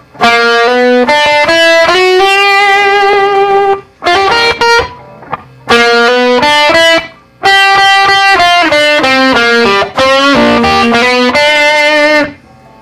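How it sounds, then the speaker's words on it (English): Bright, twangy electric guitar on a Stratocaster bridge pickup plays a lively run of chords and single notes, loud and close, with brief pauses between phrases. "standard Strat sound on the bridge pickup."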